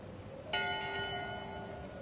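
A ship's bell in the pirate game Return to Monkey Island is struck once, sharp and close, then rings on with a bright, slowly fading tone over a low background hum.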